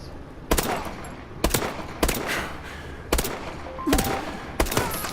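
Six sharp single shots from the .223 variant of the Bal-27 rifle in Call of Duty Advanced Warfare, fired at a slow, even pace about one second apart, each crack followed by a brief tail of ambience.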